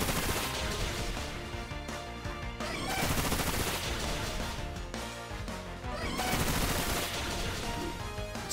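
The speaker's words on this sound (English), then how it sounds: "Bullet Seed." Bullet Seed attack from the Pokemon Violet video game, heard as a dense, loud barrage of rapid popping hits in repeated bursts, layered over continuous game music.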